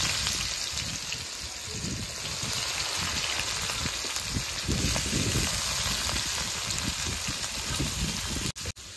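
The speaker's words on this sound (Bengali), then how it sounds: "এখন আমি কেটে রাখা পেঁয়াজগুলি দিয়ে দেবো।" Chopped onions hitting hot oil spiced with mace, cardamom and cumin for a desi chicken curry, giving a steady, loud sizzle and crackle that runs unbroken near the pan, with a brief clatter near the end.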